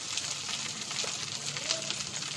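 Ginger paste hisses in hot oil with dried chillies and whole cumin as it is stirred, a steady close sizzle with faint spoon scrapes and no talking.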